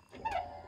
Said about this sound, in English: So that sound you heard was the amp step.